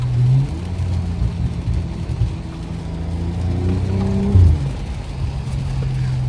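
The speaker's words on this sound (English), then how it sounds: "I don't know if y'all can really hear the burbles." Straight-piped BMW F10 sedan cruising at night in the rain, its exhaust giving a steady low burble with a couple of brief louder blips as the throttle shifts, close and continuous.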